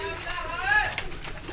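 Pigeons or doves coo softly at a loft in Faisalabad where paired birds keep their chicks, with low, steady calls running beneath someone talking close by.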